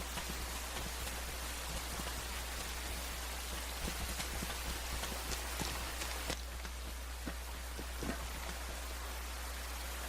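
Dense, continuous rain pours with an even hiss and scattered drip and patter accents throughout, with no voices, in the video game Rain.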